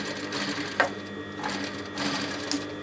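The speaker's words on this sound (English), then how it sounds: "Making sure that the machine doesn't stitch over the curtain weights." A sewing machine runs steadily as it stitches a curtain hem closed over the curtain weights, a continuous close mechanical whir with a few small clicks, no voices.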